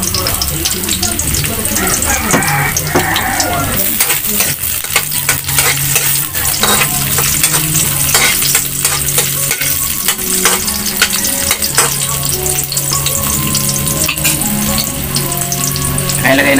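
Onions and garlic sizzle loudly in hot oil in a pan for pork humba, with continuous frying crackle and repeated stirring and scraping of a utensil, and a little talk in the background.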